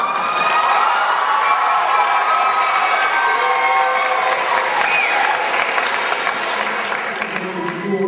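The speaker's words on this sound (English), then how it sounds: "Give a big round of applause." A school assembly audience applauds loudly and continuously, a dense wash of clapping with some cheering mixed in, sustained throughout and tapering slightly near the end.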